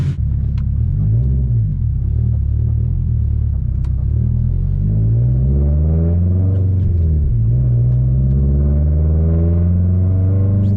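Modified 2017 Subaru STi with a 400 WHP build, its engine rumbling loud and close with rising and falling rev sweeps throughout, no voices.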